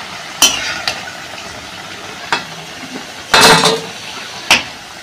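Sharp clinks and scrapes of a utensil against a pan, with short bursts of sizzling as coriander-leaf pakoras fry in hot oil and are lifted out, in a quiet kitchen.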